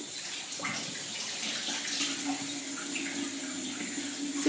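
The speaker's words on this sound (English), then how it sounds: "So I'm gonna go and rinse my face." A bathroom tap runs in a steady, close hiss of flowing water, with faint splashing as a face is rinsed in the sink.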